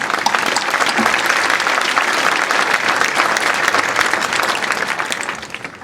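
A graduation ceremony crowd bursts into sustained, vigorous clapping, thick and even for several seconds before tapering off at the close.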